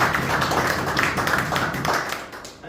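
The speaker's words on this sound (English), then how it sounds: "I should think you should give yourself a very big round of applause" Applause from an audience at an oxygen concentrator handover ceremony at Princess Margaret Hospital, a short burst of brisk clapping that stays fairly loud and even throughout.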